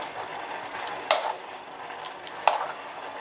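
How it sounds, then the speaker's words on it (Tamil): A spoon scrapes and clinks against a pot while buttermilk curry with okra is stirred, with two sharper taps over a soft, steady background. "நல்லா கலந்து விட்டுக்கோங்க."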